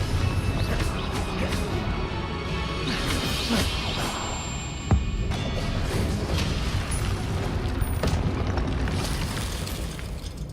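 In the video game Hogwarts Legacy, repeated Confringo blast spells go off amid dense combat noise. The booming, crashing explosions are loud and continuous, with one sharp impact standing out partway through.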